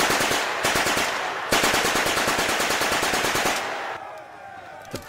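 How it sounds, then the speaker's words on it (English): Rapid submachine gun fire as a sound effect in a Bolt Action tabletop battle report, long loud sustained bursts of fast, evenly spaced shots with brief breaks, close and dense. "But Baumann and Body repel the attackers with their SMGs"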